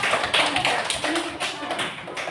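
A classroom group gets applause, brief scattered claps and taps from students mixed with voices talking over them.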